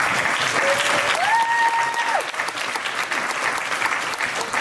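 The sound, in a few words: audience applause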